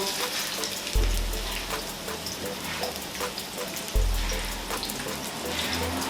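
Meatballs frying gently in a pan give a steady, even sizzle throughout, broken by two low thuds that sound like the pan being moved.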